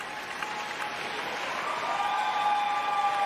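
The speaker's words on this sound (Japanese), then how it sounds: "会場からは大きな拍手" A figure skating arena audience at the 2012 World Championships gives sustained applause, a dense crowd roar of clapping that swells slightly toward the end, with faint sustained tones beneath.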